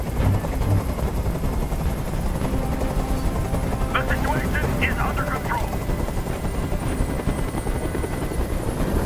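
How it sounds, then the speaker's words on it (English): A helicopter hovers in the video game Detroit: Become Human, its loud, steady rotor drone filling the scene while someone talks over it, with a brief cluster of sharper sounds midway. "Tell that helicopter to get out of here!"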